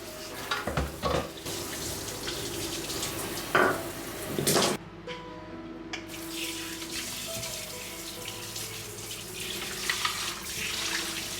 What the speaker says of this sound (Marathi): माझा ज्यूस रेडी झाल्यानंतर मी आता हा ज्यूसर छान वॉश करून घेते.